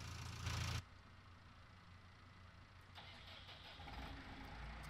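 A New Holland tractor engine starts up in Farming Simulator 19. A brief, loud cranking burst catches, then the engine settles into a steady, low idle that grows slightly fuller toward the end.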